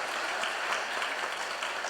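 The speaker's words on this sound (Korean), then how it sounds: "따뜻한 위로와 박수와 격려해 주시기 바랍니다" A church congregation applauds during a Sunday service, the clapping even and continuous with no voices rising above it.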